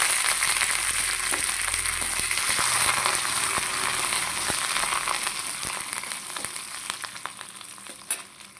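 Dried red chillies and curry leaves fry in hot oil, giving a dense, steady sizzle with crackles and pops throughout. The sizzle eases slightly toward the end and is not covered by any voices.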